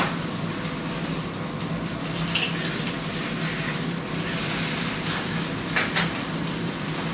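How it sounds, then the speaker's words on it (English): Steak sizzles steadily in a hot pan with a constant hissing crackle, and a few louder spits and clinks of cookware stand out now and then. "Now the steak is in the pan."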